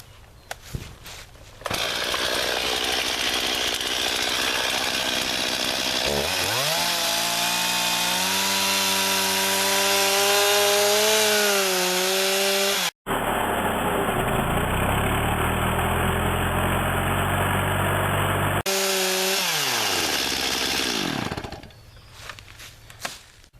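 A chainsaw makes a felling cut through a heavily leaning tree. The engine revs loud and close, with pitch shifts as the bar bites into the wood, a brief cut-out midway, then steady sawing before it idles down. Nobody talks.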